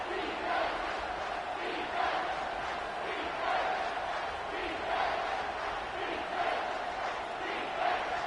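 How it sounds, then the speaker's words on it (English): Loud, sustained roar of a packed football stadium crowd at a Georgia versus Oregon college game, a steady wall of cheering and shouting with periodic swells. "this crowd is bringing down the house"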